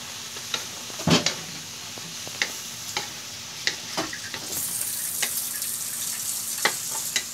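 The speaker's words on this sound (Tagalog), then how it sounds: "Haluin po natin." Cabbage and sardines cook in a pan, stirred with scraping strokes over a steady sizzle that grows louder and brighter midway through, heard close with no speech.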